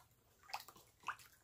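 Bleach poured into a container while making homemade coconut soap powder: two brief soft liquid splashes and sloshes about half a second apart, faint and close, with no talking.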